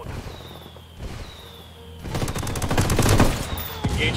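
Rebel indirect fire lands in the Ghost Recon Wildlands video game as loud thumping impacts, followed by a dense rattling burst of gunfire and explosions that swells and then fades.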